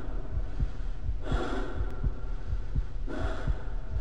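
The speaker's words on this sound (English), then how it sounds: "you hear Gordon's breath just breathing" Gordon Freeman's breathing in Half-Life: slow, heavy breaths rising and falling twice over a low throbbing pulse, close and steady with no talk.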